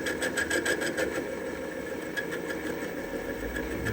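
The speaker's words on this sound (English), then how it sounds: "I'm just barely scraping the inside of that nut right now." A lathe tool lightly scraping the inside of a nut, a steady machining whir with a rapid rhythmic ticking, moderately loud and close, with no talking.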